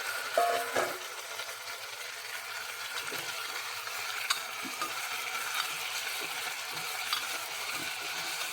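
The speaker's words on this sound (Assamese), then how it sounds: "এনেকৈ অলপ সময় লৰাই থাকিম ইয়াতে কুকাৰতে" Quiet sizzling of mutton frying in a pressure cooker, with occasional scraping and clinking as it is stirred.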